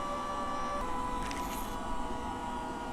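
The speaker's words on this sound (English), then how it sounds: "You can also tell the motor is a tiny bit quieter." A small airsoft gun motor hums steadily and close, spinning during a water break-in, with a faint rising whine partway through.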